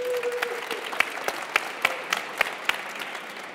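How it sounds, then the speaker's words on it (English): A small group claps briefly, a thin scattering of distinct hand claps rather than a full ovation, fairly close. "give a round of applause to Mike."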